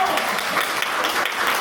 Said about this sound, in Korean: 박수를 유도하셨는데